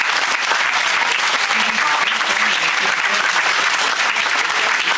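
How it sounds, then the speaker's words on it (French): Steady, sustained applause from a large crowd, dense clapping that stays loud and even throughout without pause. "je voudrais que vous applaudissiez tous, tous ceux qui ont participé"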